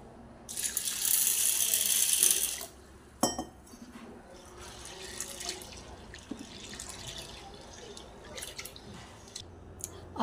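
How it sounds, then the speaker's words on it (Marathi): Chana dal being rinsed in water two or three times in a kitchen, with a loud burst of running, splashing water followed by quieter dripping, sloshing and clinking of grains in a vessel, with no talking. "तर आपण ती स्वच्छ धुवून घेऊया 2-3 वेळा पाण्याने"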